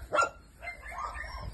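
A single sharp bark near the start from newly rescued shelter dogs, followed by softer whining yips, fairly close and moderately loud.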